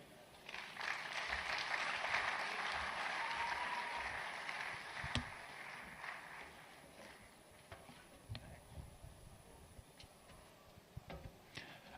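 Applause from an audience at a 2023 tech fair, loudest in the first half and then thinning into scattered individual claps and taps toward the end.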